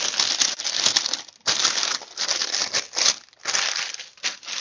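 Dog's belongings and treats for a griffon puppy being packed for a trip, with dense crinkling and rustling of plastic wrapping in several bursts separated by short pauses, close and fairly loud.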